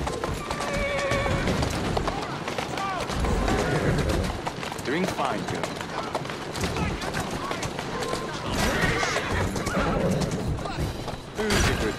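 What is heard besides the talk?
horse neighing and hooves, video game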